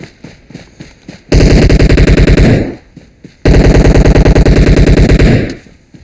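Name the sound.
gunfire in a video game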